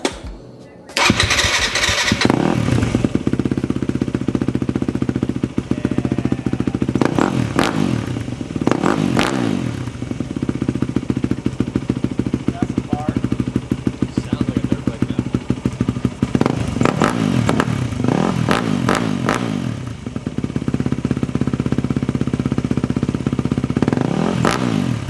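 A 2008 Yamaha WR250F dirt bike fitted with an FMF exhaust kicks into life and runs steadily nearby, its loud engine crackling and blipping through repeated throttle revs for around twenty seconds.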